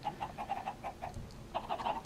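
Minecraft chickens cluck in short repeated bursts, a run of quick soft clucks, a brief pause, then another cluster of clucks near the end, alone with no talk.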